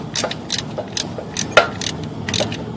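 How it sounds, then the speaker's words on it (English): A ratcheting combination wrench works on engine bolts during an engine teardown, with a rapid string of close, crisp ratchet clicks in short repeated bursts. "Or the combination wrench that's ratcheting."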